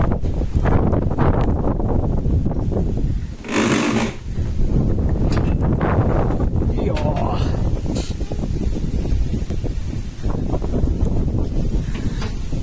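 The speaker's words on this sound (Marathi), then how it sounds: "खूप डेंजर वारं चालू आहे बाहेर" Strong wind roars and buffets the microphone in loud, continuous gusts, with voices speaking over it.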